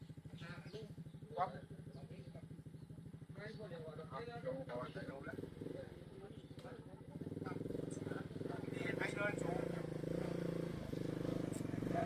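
Homemade Thai four-wheel-drive three-wheeler climbing a slope in low gear, its engine chugging steadily then growing louder and rougher as it pulls uphill, with people talking over it throughout.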